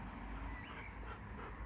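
A dog pants quickly and close by, breathy rhythmic huffs with a faint whimper rising partway through, heard over a soft steady background with no talking.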